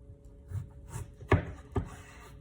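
A knife thunks down through a citrus fruit twice, cutting it in half with two sharp knocks on a board, close and fairly quiet, with faint rustling before.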